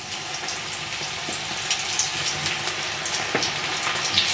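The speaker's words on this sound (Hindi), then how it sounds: "भिंडी को फ्राई करने के लिए देखिए मैंने ऑयल अच्छे से गर्म कर लिया है। अब हम डाल देंगे अपने भिंडी को इसमें।" Okra sizzles in hot oil, a steady close hiss of frying with small crackles and pops scattered throughout, no speech over it.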